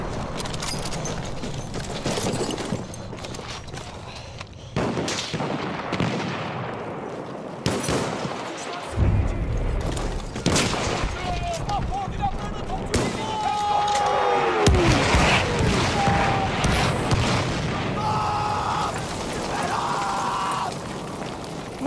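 Machine gun fire in a war video game, with bursts of gunshots scattered through a busy battle mix of explosions and effects, and voices calling out over the fighting.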